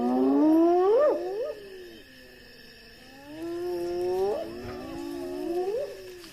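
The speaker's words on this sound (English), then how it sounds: "Hyenas, the lion's eternal rivals, are quickly on the scene." Spotted hyenas call at a fresh lion kill by a river in the Zambezi region: loud whooping, rising and falling moans that repeat in bursts, close by and alone, with no voices over them.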